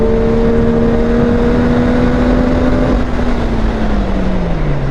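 A Yamaha R9 motorcycle braking hard into a stoppie gives a loud, steady engine tone that holds, then winds down in pitch as it slows, over heavy wind roar, with no talking.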